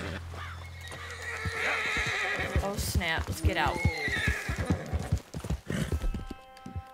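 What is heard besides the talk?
horse neighing and hooves in video game Red Dead Redemption 2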